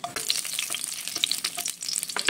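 Ginger sautéing in hot oil in a pan, a close crackling sizzle of rapid sharp pops and spits that rise and fall in bursts, with no speech.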